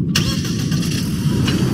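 Line Runner semi-truck engine in a Gmod game, a steady low engine rumble running throughout, close and loud, with brief higher rises near the start and end and no talk.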